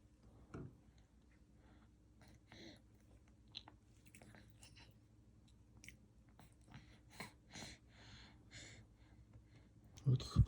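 A pet chews and bites food in close, soft irregular crunches with faint sighs and breaths, while a person talks quietly now and then over a low background hum.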